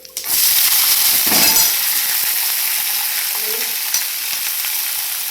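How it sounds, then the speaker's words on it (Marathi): Hyacinth bean pods drop into a hot tempering of cumin, mustard seeds, garlic, curry leaves and coriander, setting off a loud, sudden sizzle that settles into a steady, hissing fry. "इथं जिरे, मोहरी, लसूण, कढीपत्ता, कोथिंबीर सगळ्यांची फोडणी दिली. आता टाकून घेते त्यात"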